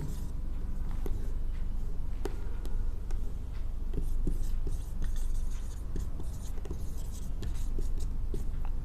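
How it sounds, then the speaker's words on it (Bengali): Chalk or marker strokes scratching out a word on a board during a biology lecture, a steady run of short scraping taps over a faint room hum, with no voices. "ইংলিশটা লিখে দেই"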